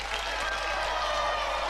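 Studio audience applause on a television games show, a steady dense wash of clapping with no pauses throughout.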